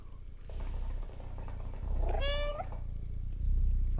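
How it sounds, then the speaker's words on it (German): A cat meows once in the video game Stray, a clear rising-falling cry with a steady hum of ambience beneath and a faint tinkling chime above, no voices. "Man kann sogar, wenn sie schläft, miauen."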